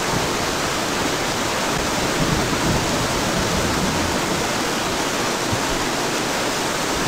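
Rain in the survival series Escape The Pacific, a dense, steady hiss of heavy rainfall that holds constant throughout with no breaks.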